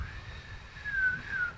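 A person whistling a single wavering tone, fairly faint and close, the pitch sliding gently and rising in strength toward the end over a quiet background.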